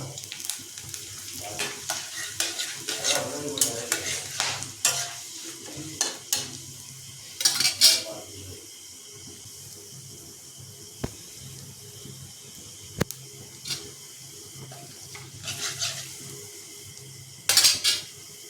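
Dried red chillies, bay leaf, whole cumin and whole garam masala spices sizzle in hot oil in a pan, with repeated sharp scraping of a metal spoon stirring against the pan and a low steady fry between the strokes.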